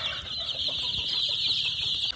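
A flock of farm chickens clucks steadily around their feed, a dense, close chorus of clucks and higher cheeping calls with no speech.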